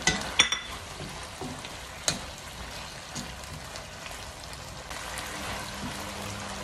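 Squid and green chili sizzle and crackle in a hot pan for a spicy squid dish, a steady close frying hiss with a few sharp stirring clatters near the start.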